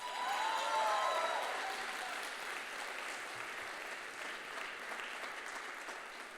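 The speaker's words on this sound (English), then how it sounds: "Ladies and gentlemen, please give Gino another round of applause." Audience applause fills a hall at a Bharatanatyam arangetram dance recital, a dense, steady clapping from a crowd that swells early and then holds evenly before tapering slightly.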